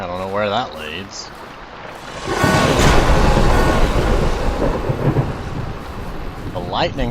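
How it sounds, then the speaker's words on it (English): Lightning strike and rolling thunder in the horror video game Layers of Fear, a loud crashing rumble that swells suddenly and sustains as a heavy roar; a voice talks briefly beforehand. "The lightning strike there was very well done."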